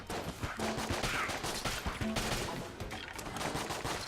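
Rapid gunfire from the video game Enter The Gungeon crackles in dense bursts of shots, steady and fairly loud, layered with game sound effects and no talking.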